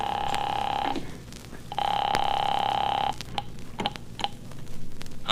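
An old-style telephone bell rings in two long bursts with a pause between, a classic radio drama sound effect, followed by faint clicks and handling noises.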